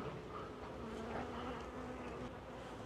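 Honeybees crowd a brood frame lifted from the hive, a dense, continuous close buzz from many bees with no talk.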